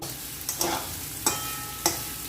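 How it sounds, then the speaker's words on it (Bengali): Poppy seed paste frying in a pan while being stirred, a soft continuous sizzle punctuated by three distinct metallic scrapes of the spoon, close by, spaced roughly half a second apart. "পোস্ত বাটা আমি একটু নেড়ে নিচ্ছি"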